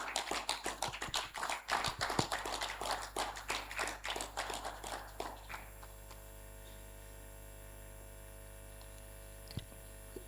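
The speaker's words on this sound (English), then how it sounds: "Let's clap for him as he comes up." Audience applause at a formal event as a speaker is welcomed to the stage, a dense burst of clapping for about five seconds that quickly thins out and stops, leaving a quiet room with low hum.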